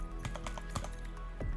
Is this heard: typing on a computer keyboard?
yes